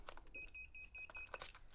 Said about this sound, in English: That's why it's making that beeping noise.